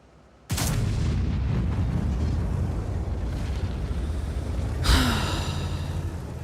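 A tank cannon in a war video game fires with a sudden heavy boom that rolls into a long sustained rumble, followed by a second sharper blast near the end.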